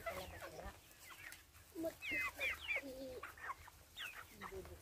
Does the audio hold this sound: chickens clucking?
yes